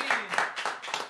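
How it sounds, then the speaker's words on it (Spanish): A short burst of clapping and applause, several people clapping in uneven bursts, fairly close, with faint voices mixed in. "Este es el aplauso que le damos desde aquí."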